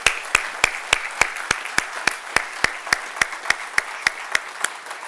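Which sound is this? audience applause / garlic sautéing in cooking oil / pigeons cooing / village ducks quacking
audience applause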